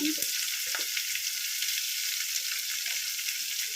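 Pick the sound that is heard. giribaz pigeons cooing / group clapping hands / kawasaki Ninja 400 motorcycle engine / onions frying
onions frying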